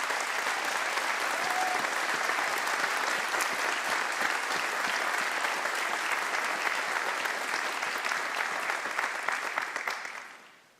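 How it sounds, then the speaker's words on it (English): Loud, sustained applause from a band festival audience in a hall, dense and continuous for about ten seconds before fading out at the end. "please also rise and acknowledge some applause"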